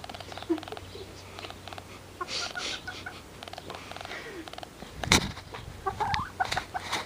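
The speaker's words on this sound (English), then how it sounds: "Come look at the bird." A bird gives chicken-like clucking calls, scattered and moderately close, mixed with rustling and handling noises while people talk nearby.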